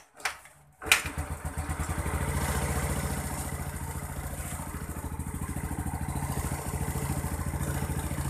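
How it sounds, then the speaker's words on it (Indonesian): A motorcycle engine fires up after a brief pause and settles into a steady, close idle with a regular low chugging pulse that runs on alone to the end. "nanti motornya kita hidupkan ya"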